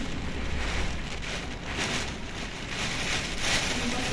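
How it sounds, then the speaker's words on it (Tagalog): Heavy rain and strong wind during Typhoon Yagi in Vietnam, a dense continuous hiss with gusty swells and microphone buffeting, and no talk. "Sobrang lakas na ng ulan."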